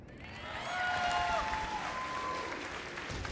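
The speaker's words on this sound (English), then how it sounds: "Big round of applause for Old Knee Cosplay!" Audience applause at a cosplay competition at AVCon 2019, a steady wash of clapping and crowd noise at moderate distance, swelling slightly mid-clip, with faint tonal sounds from the hall.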